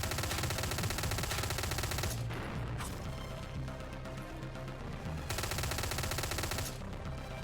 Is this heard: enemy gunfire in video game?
yes